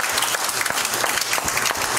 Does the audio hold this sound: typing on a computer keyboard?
no